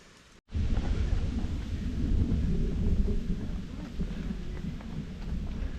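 Continuous low thunder rumbling loud and steady over misty mountain trails in North Georgia, a broad roll that begins abruptly after a brief pause and keeps growling without a break.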